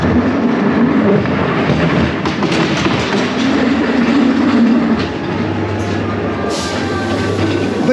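A ghost train dark-ride car at Blackpool Pleasure Beach rolls along its rails with a steady rumbling clatter, heard up close from on board, before settling into a lower, smoother drone near the end.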